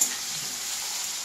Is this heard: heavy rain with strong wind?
no